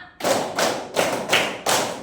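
Group hand claps in a counting game, five loud, evenly spaced claps ringing out one after another with no talking.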